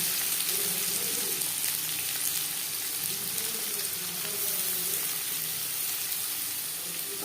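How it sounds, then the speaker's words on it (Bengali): Chopped onion sizzles loudly in hot refined oil in a pan, a constant bright crackle close by with faint low background hum and no talk. "চার পাঁচ চামচ রিফাইন অয়েল গরম করে নেওয়ার পর দিয়ে দেবো পেঁয়াজ কুচি"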